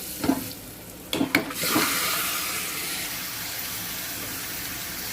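Mutton pieces hit a hot pan with oil and curry leaves for a curry, giving a few sharp splashes and crackles that settle into a steady, moderate sizzle.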